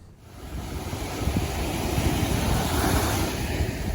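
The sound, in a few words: sea waves on the Polish coast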